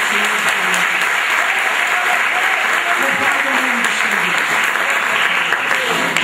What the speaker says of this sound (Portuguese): Por isso eu quero que você dê uma salva de palmas bem grande.